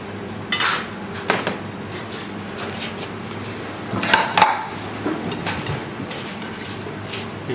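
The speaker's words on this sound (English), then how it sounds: "Just give it a slight tap down to hold it together, stop it falling apart." Food for a prawn dish being tapped down inside a ring mould on a plate gives a few light clinking knocks spaced apart over a quiet kitchen background.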